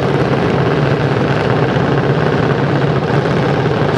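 A junior dragster's engine idles and runs steadily at a drag strip at Gardermoen Raceway as the car rolls toward its start position, a constant loud mechanical drone with no break.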